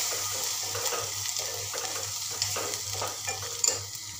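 Turmeric, coriander powder and chili powder are stirred into hot oil in a pan for broccoli bhaji, making a continuous close sizzle broken by rhythmic scraping strokes.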